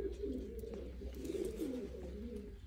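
Teddy-breed pigeons in a loft give repeated low, throaty coos close by, overlapping in a continuous murmur.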